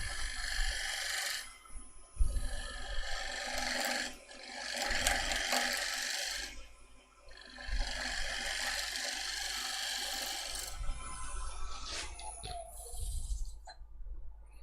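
A woodturning gouge takes gentle, fine passes on a spinning wooden workpiece with a crack in it. It gives a steady whispery scraping hiss in several long bursts, with brief pauses and a low lathe hum underneath.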